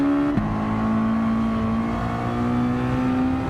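Mazda race car in Gran Turismo 7 during a WM Mazda Cup round, its engine droning steadily loud with a throttle blip and pitch shift early, then a sustained rising tone, with no talk over it.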